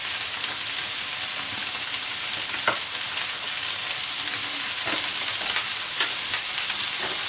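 Carbonara ingredients, likely the 100-gram portion of meat, crackle in a hot dry pan with no oil, a dense continuous sizzle with occasional stirring clicks, close and fairly loud.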